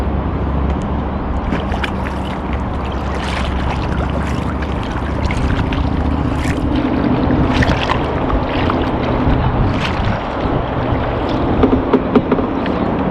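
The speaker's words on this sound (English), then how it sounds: "So we've been rowing for maybe half an hour" A kayak is paddled across open water in Stockholm, Sweden, with continuous splashing and wash, rhythmic paddle strokes and some wind buffeting the microphone, close and loud with no talk.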